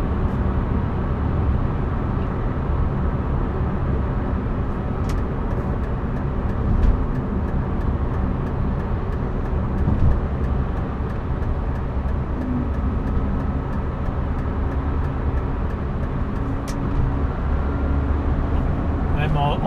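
1999 Renault Megane I Coupe with the 1.6 16V 110 hp engine, a steady low engine drone and road rumble heard from inside while cruising in fifth gear, with someone talking over it throughout.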